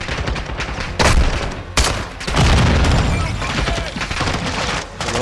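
Gunfire in Call of Duty: Modern Warfare 2. Loud, dense volleys of shots and booming blasts crowd together over about five seconds, with sharper bursts standing out near the one- and two-second marks.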